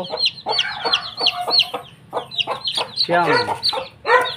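A mother hen with her chicks, feather-footed birds, clucks close by in short repeated bursts, mixed with higher chick peeps.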